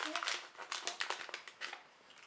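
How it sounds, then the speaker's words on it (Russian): A small plastic packet holding a glitter tablet from a Disney princess glitter-globe playset crinkles faintly in a series of quick, close rustles, with soft talking alongside. "Берем таблетку с блестками. Вот она у нас в таком пакетике."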